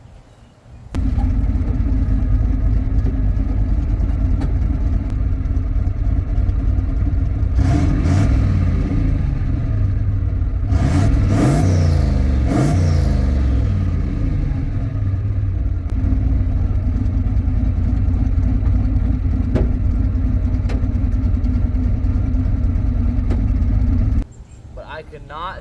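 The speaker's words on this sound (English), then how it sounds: "here's a clip of me revving it up" A drift car with a suspected boost leak sits running with a loud, steady engine note, and a few rising revs swell over it before it drops off abruptly near the end. A voice is faintly present under the engine.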